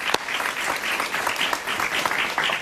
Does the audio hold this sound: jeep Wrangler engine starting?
no